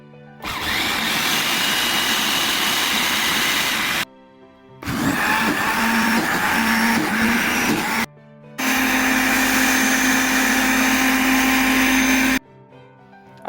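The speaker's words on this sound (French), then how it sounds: "voici la pâte que j'ai obtenue après avoir passé mes haricots au mixeur" A kitchen blender grinds soaked beans into batter for bean fritters, running in three loud, steady bursts of a few seconds each with short pauses between them.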